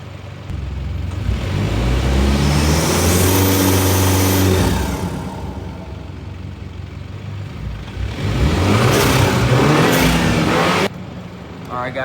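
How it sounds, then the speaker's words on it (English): An Infiniti Q50 half-launched from a standstill, its engine revving hard with turbo spooling, swelling loud and close in two surges with a quieter stretch between, and a person speaking over part of it. "try to like kind of half launch it. Hopefully you guys can hear some type of spooling."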